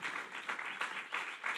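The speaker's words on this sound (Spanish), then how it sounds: "dale un aplauso al Señor" Brief burst of church congregation applause during a sermon, steady dense clapping with slight swells, fairly quiet and distant throughout.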